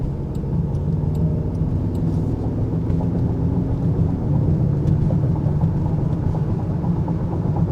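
Cabin of a 2025 Range Rover Sport SV Edition Two on an extremely rough road, with a steady low rumble of road and engine noise and faint scattered knocks from bumps, no talking.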